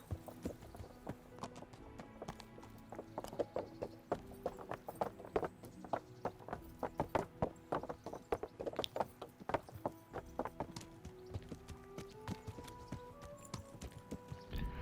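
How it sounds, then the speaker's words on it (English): Hooves clip-clop in a quick, continuous rhythm as several horses trot together in Kingdom Come: Deliverance, with creaking and faint game-like mechanical sounds underneath. "all these horses just trotting along"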